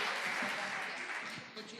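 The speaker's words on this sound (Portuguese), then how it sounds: "Vamos aplaudir todos esses nossos irmãos" A church congregation applauds its volunteers with dense, steady clapping that fills the room, loud throughout with a slight fade near the end and voices mixed in.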